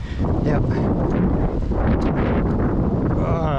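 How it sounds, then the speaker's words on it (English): Heavy, steady wind buffeting the microphone fills the whole clip with loud low rumble, and a person briefly speaks a single word over it. "apologize for the wind"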